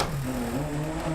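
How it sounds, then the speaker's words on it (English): A damaged rally car engine in DiRT Rally 2.0 on a gravel stage in Argentina, droning steadily with a rough, uneven pitch that rises and falls over about a second, close and continuous with no talk. "Car's not sounding good at all."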